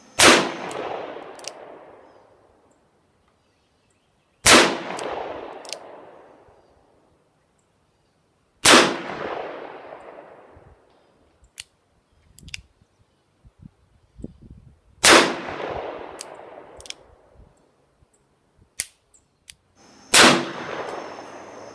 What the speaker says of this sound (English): Here's just what it looks like when you're shooting it. I shot all 357 Magnum target loads for this review.